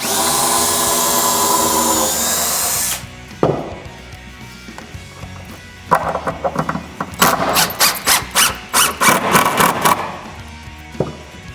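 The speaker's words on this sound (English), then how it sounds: "I am going to pre-drill them just so I don't split the plywood" A drill pre-drills screw holes in plywood for a miter saw stand, first a loud sustained whir that stops abruptly, then a series of short, sharp bursts and squeaks close by.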